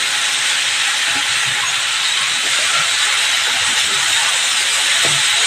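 Steady, loud sizzling hiss of cooking banana vegetable frying in a pan, continuous throughout with faint clatter underneath.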